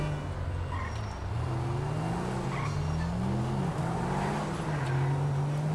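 A modded caravan drives through city streets in GTA 5, its engine a steady, continuous drone rising and falling in pitch as it accelerates and turns, loud and close with no talk over it.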